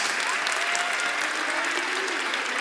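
A graduation audience at a Texas high school applauds with dense, even clapping that fills the room. It is continuous and moderately loud throughout, with faint voices mixed in.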